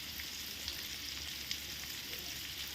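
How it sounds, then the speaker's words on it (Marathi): Semolina-coated prawns frying on a tawa give a steady, close, even sizzle with faint crackles and a couple of light ticks, no voices. "इथे मी त्याच तव्यावरती प्रॉन्स देखील रव्यामध्ये घोळून घेऊन दोन्ही बाजूनी गोल्डन ब्राऊन होईपर्यंत फ्राय करून घेणार आहे"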